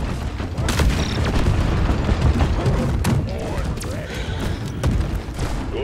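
A grenade goes off in the co-op game Deep Rock Galactic, a booming blast set among gunfire and a dense, busy game mix, with no separate talk in this stretch.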